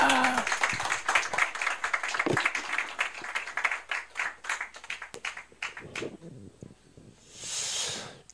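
At a press conference for the Liberty Unification Party, an audience claps in a brisk burst that thins to scattered claps and dies away, with a brief hiss at the end.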